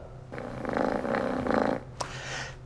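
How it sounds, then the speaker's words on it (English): A cat purrs steadily and close by for a couple of seconds in a rhythmic, rumbling burst, then stops and leaves a faint brief sound and quiet background. "Now, the purr."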